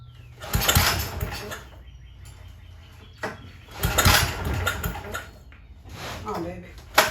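A Goodall Start All 708 engine starter, found at a dump, sputters and pops in uneven bursts as it tries to catch and run, loud and close, with a person talking between bursts.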